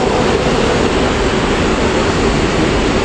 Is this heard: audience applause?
no